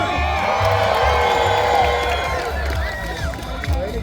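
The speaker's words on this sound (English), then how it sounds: "When she comes around the 3rd barrel, I want you to scream" Rodeo crowd at a state fair grandstand screams, whoops and cheers loudly and continuously, a dense wall of massed voices with shrill shouts rising above it, fading slightly toward the end.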